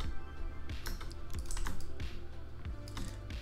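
Someone types on a computer keyboard while making a Roblox Anime Fighters logo. Quick bursts of crisp, close key clicks come in an uneven rhythm, with short pauses between them.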